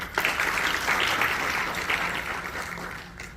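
Audience applause at a religious festival gathering in Sinnar, a dense steady clapping from a crowd that swells briefly and then slowly fades.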